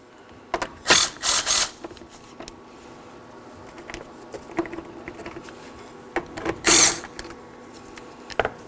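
Ratchet loosening the single 10mm mounting bolt on the coolant reservoir of a 2013-2019 Nissan Sentra: short bursts of quick clicking around one second and again near seven seconds, with faint handling noises between.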